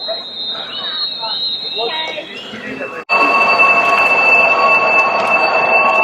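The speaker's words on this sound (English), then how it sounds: "look at the sound and hear the sound of this bullet train" A Chinese high-speed bullet train at Suzhou station, bound for Shanghai, gives a steady whirring hum with a thin high whine. The noise swells fuller after a brief dip midway, with crowd voices around it.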